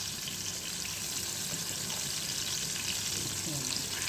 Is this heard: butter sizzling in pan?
yes